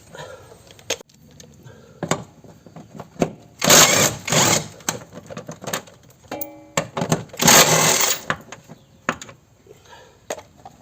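On a Peugeot 308, the upper shock absorber bolts come out with a wrench and ratchet: clicking ratchet strokes and metallic rattles, plus two longer bursts of harsh mechanical whirring, close and fairly loud.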